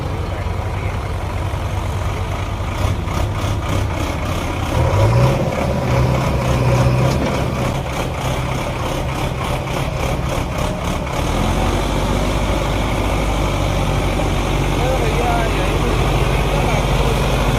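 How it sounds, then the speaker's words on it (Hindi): A fully loaded Sonalika DI 55 tractor, a new 2022 model, runs with a steady, close diesel drone and a deep low rumble that holds unbroken throughout. "ये चलेगा सोनालिका का DI 55"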